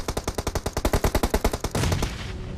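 Rapid automatic gunfire in the battle royale game BGMI from an enemy spraying blindly, a close steady string of about twenty evenly spaced shots, ending in a burst of noise and clatter.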